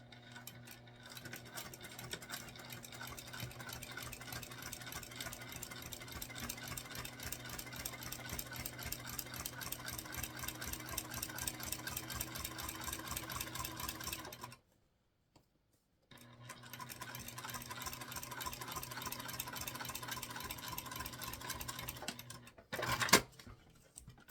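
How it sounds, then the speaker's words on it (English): A domestic sewing machine top stitches the base panel of a structured bag. Its rapid, even needle rhythm runs steadily up close, stops briefly, then resumes and ends with a sharp clack. "And we top stitch on the base panel on this side as well."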